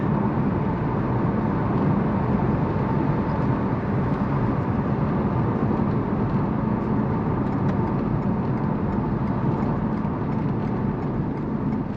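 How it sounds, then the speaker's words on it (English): Steady road and engine hum fills the cabin of a Toyota Yaris Cross Hybrid compact SUV driving on a New Zealand country road, a constant, moderately loud drone with tyre roar and no talk. "Now you can feel the noise going through the cabin."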